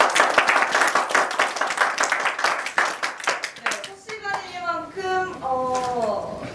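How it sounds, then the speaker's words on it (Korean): Clapping from a lecture audience at a cultural festival, a burst of overlapping handclaps for about four seconds that then gives way to a voice speaking over the fading claps. "박수로 시작할까요?"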